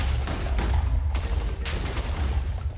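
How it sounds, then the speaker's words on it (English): A 100x-strength TNT charge blows up in Minecraft, a loud rumbling burst of overlapping blasts and crackling booms that rolls on for a few seconds. "Fairly large explosion"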